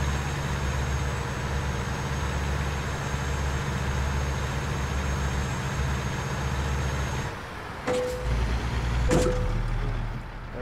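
Truck engine in a truck driving video game, parked and heard from an outside view: a steady, loud low drone that drops out near the end, followed by short hissing bursts like air brakes.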